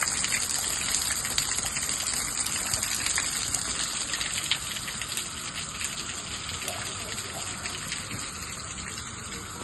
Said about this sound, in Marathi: ते पाणी वरून भरून टाकीतून सांडतंय